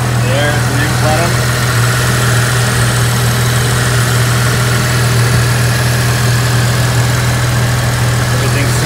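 A Porsche 911 engine idles after an IDP plenum installation, a loud steady low hum with even vibration throughout, with someone speaking briefly over it.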